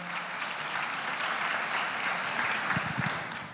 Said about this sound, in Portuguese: Você pode dar um aplauso ao Senhor pela sua palavra